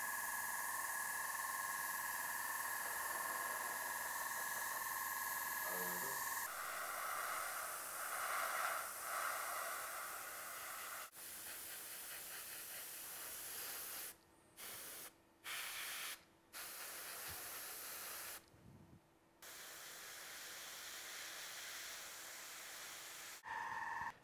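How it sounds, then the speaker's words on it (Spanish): An airbrush sprays Russian green base paint over a BTR-70 armoured vehicle scale model, a steady close hiss that runs in long passes and then breaks into several short bursts separated by brief pauses. "Vamos a aplicar primeramente un verde ruso como color base a todo el vehículo"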